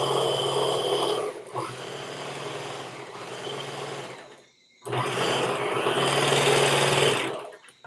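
Close-up whirr of a sewing machine finishing garment seams, running steadily in two long bursts separated by a short pause, then stopping at the end.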